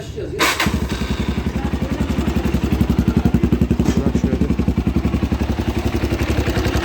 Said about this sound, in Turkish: Çalıştıralım.